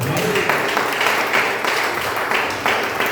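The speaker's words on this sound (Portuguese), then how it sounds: "Dê uma salva de palmas para Deus" Church congregation applauding in praise, a dense wash of clapping from many hands that pulses in waves for a few seconds, close and loud.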